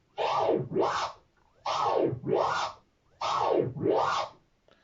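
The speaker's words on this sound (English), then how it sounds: "you're going to be doing long and slow baby scratches just to start off with." Three pairs of back-and-forth baby scratches on a DJ turntable, long, slow and evenly spaced, each a swooping rise and fall with brief pauses between.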